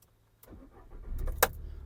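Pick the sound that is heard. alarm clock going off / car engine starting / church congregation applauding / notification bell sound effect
car engine starting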